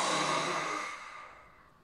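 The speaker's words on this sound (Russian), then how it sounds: "Выдох со звуком Х." A forceful yoga exhalation with a breathy 'kh' sound comes as one long, close breath that fades steadily over about two seconds.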